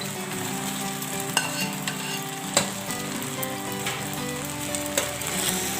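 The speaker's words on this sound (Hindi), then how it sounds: "सॉस के साथ मिक्स करेंगे" Chow mein noodles with sauce sizzle steadily in a hot pan while being stirred, with occasional sharp knocks of the utensil against the pan over the continuous frying hiss.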